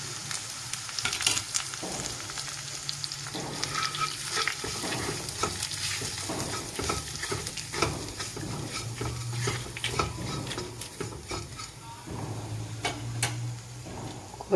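Palmyra sprout tuber stir-fried in a pan for podimas gives a steady, close sizzle with repeated scraping and stirring clatter throughout, and no voices.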